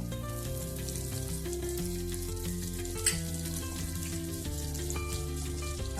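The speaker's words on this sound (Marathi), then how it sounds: "बटर घालून घेऊया" Butter sizzles in a hot kadhai with a soft, steady crackle beneath louder background music, one brief sharp pop partway through.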